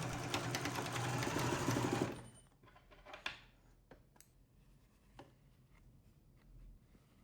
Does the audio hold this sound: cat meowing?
no